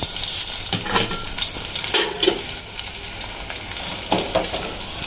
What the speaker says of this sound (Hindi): चलो थोड़ा हमारे मसाले भून जाए फिर आपको दिखाते हैं।